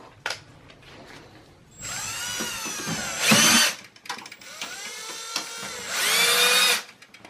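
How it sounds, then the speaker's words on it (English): Power drill driving screws into the case of a Dell Precision T5500 workstation, heard as two loud, rising whirring bursts with quieter handling and clicking noises between them. "Then what I will do is I'm going to use a drill."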